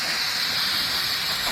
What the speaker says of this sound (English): Let's go ahead and rinse the cylinder